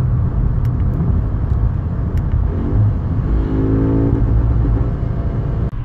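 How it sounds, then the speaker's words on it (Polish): An Audi S3 2.0 TFSI 333 hot hatch accelerates hard. The engine sounds loud and close, with a steady deep rumble, and its rising rev tone climbs as it pulls through the gears. No one speaks. "Nowe S3 brzmi i jeździ, a tego się właśnie oczekuje od Hot Hatcha"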